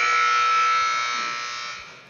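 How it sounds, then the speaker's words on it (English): A loud ice hockey period-ending buzzer sounds alone in a rink, a continuous harsh tone that gradually fades over about two seconds. "There's the buzzer ending the first period."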